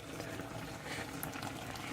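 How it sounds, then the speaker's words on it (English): A pot of caramelized pork mixture boils on a stove set to high, giving a steady, soft bubbling and gurgling wash that runs evenly throughout without a clear break, with faint clicks near the end. "After the pot has reached a boil, add your coconut."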